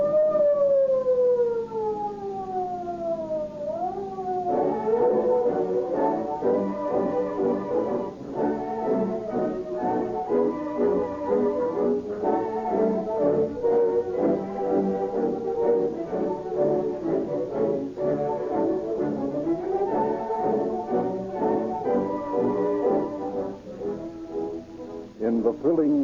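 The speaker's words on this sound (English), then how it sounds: "you will hear police cars roaring down the street at full speed, sirens shrieking" Police car sirens wail, rising and falling continuously, loud and sustained, blending with dramatic orchestral music for the whole stretch of an old-time radio drama.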